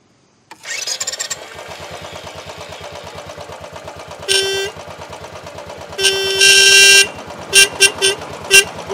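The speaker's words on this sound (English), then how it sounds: "Let's try the horn." A Royal Enfield Bullet Trials 500 motorcycle starts and settles into a steady thumping idle, then its horn sounds in a few short toots and one longer blast, loud and near.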